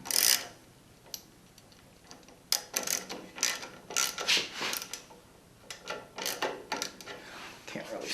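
Wrench ratcheting on a nut while adjusting a Grizzly jointer, heard as close bursts of clicking mechanical ticks in several separate runs with short pauses between them.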